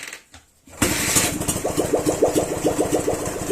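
After a brief quiet moment, an unmuffled motorcycle engine, on a motorcycle with a 17-inch wheel, fires up and runs with a loud, raspy, rapid popping rhythm close by.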